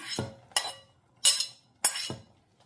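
A spoon stirs lentils with green chilli in a metal pot, making four sharp, close clinks spaced evenly about half a second apart, each followed by a short scraping tail, with quiet between.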